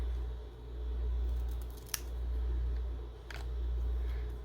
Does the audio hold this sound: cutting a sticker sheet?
yes